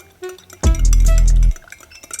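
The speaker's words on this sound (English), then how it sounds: "and give it a good stir" A spoon stirs a Sri Lankan Irish coffee laced with brandy, giving a few light clinks and then a loud, sustained metallic scrape of just under a second before it falls quiet.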